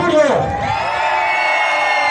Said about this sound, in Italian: l'urlo lo facciamo di cuore perché se lo merita questo piccolo borgo della Riviera Ligure